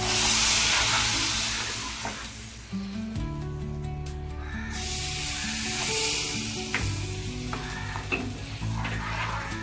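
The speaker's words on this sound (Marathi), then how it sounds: "आता आपण जे दह्याचं बनवून घेतलं त्यात आपण ही फोडणी टाकून घेऊया" Loud sizzling bursts up as a hot oil tempering hits a yogurt mixture for dahi kadhi, then settles into crackling and stirring, with a low hum underneath.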